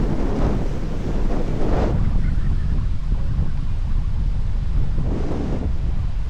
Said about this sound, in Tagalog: Napakalakas ang hangin pa.